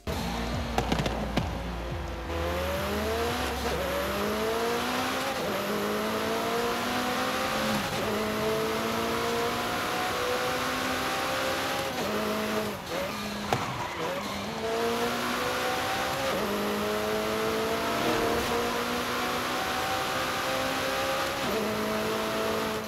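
A McLaren GT in Forza Horizon 5 drives for a long stretch, its engine droning loud and close with rising and falling pitch through gear shifts, plus occasional tire squeal.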